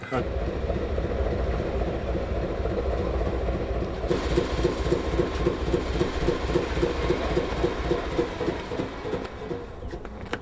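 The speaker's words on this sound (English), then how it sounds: "Engine on this boat is way too loud" A boat's loud engine drones steadily at close range for the whole stretch, a dense low rumble with a faint rhythmic pulse that grows slightly louder and harsher partway through.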